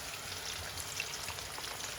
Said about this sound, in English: Okay, I'm gonna put my onion in